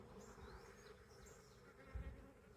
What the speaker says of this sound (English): that's a swarm taking off